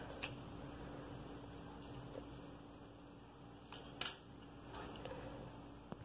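Scissors cut out a paper animal shape for a collage, giving faint, sparse snips and crinkles at close range over a quiet room hum, with one sharper click midway.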